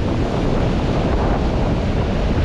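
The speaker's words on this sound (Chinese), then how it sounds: "还有大海" Sea waves along the Hainan coast make a steady, unbroken roar of surf mixed with wind buffeting the microphone, constant and loud for the whole stretch with no voices.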